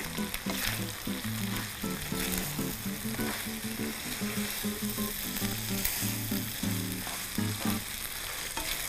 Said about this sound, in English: And we'll give that all one more stir.